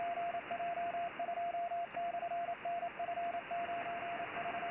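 Morse code (CW) received on an amateur radio, a steady tone keyed in rapid dots and dashes over constant band hiss and static.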